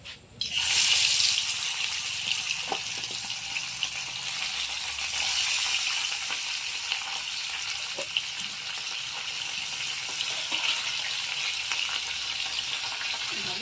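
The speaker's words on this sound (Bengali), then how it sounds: "তেলটা গরম হয়ে গেছে, এখন মাছগুলো ভাজে নেব।" Fish hiss and sizzle steadily in hot oil in a home kitchen pan, a dense continuous crackle with a louder burst at the start as the pieces go in.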